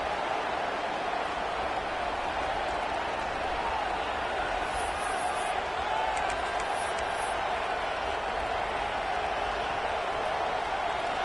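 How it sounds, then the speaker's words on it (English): A football stadium crowd roars steadily during a kick return, a loud sustained wash of cheering and noise with no break across the whole stretch. "This crowd ready to make its presence known."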